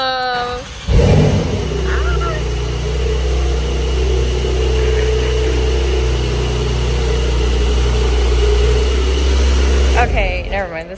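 A Porsche 992 Turbo S engine turns over and settles into a loud, steady idle with a deep rumble, then cuts off near the end.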